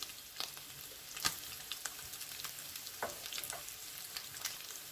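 Beef pieces sizzle steadily in hot oil in a pan for a Turkish restaurant-style kavurma, with a constant crackling hiss broken by sharper pops and spatters, close and moderately quiet, no voices.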